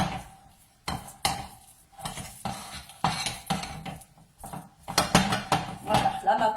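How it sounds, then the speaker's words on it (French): Chocolate mousse batter is stirred in a bowl, the utensil clinking and scraping against the sides in uneven knocks and scrapes, close and fairly quiet, with no one speaking. "On mélange de façon à ramollir la pâte."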